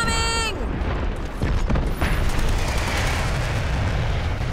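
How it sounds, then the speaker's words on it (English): A fire support artillery strike in the shooter Dirty Bomb: heavy booming impacts and explosions rumble continuously at close range, following a brief synthetic tone at the start, loud and dense throughout. "Fire support incoming!"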